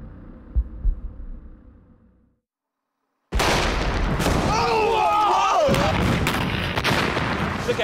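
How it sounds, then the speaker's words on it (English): Explosive bomb detonated in a outdoor demolition test: a sudden, massive blast after a brief hush, with a loud, sustained roar and rumbling debris; people shout and talk before the detonation. "First up, the explosive bomb."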